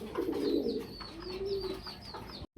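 Fancy pigeons coo in a low, repeated rolling murmur, close and fairly loud, with some brighter chirps above and a brief dropout near the end.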